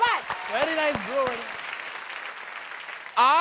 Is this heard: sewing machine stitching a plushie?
no